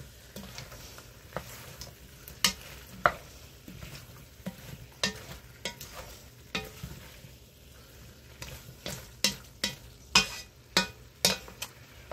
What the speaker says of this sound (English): Okay, give that a mix in.